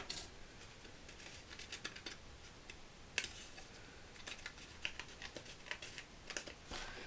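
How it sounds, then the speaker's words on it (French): Scissors trimming the edges of paper in a craft tutorial, a quiet series of crisp irregular snips in close succession, sharp clicky cuts spaced across the moment with no talking. "je repasse un coup de ciseaux"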